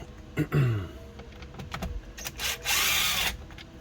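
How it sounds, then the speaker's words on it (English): A power driver unscrews a couple of T20 screws from a car dash panel during a touchscreen head unit install, giving short whirring bursts separated by quiet gaps, with a longer buzzing run near the end. "I got a couple T20 screws we're going to remove right here"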